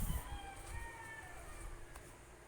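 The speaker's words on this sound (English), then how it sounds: "Chickens." A rooster crows and chickens cluck in the background, moderately faint, with no talking.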